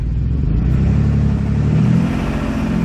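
2007 Dodge Nitro engine with low oil pressure, heard close up as a steady mid-pitched hum that eases from about 2,000 RPM toward idle, pitch drifting downward with a faint whir.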